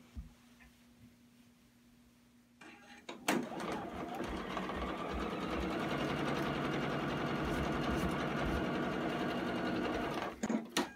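A sewing machine stitches quilt block squares together, starting after a quiet moment with a loud steady mechanical whir and rapid needle clatter that runs for several seconds, then stops with a few clicks, close up.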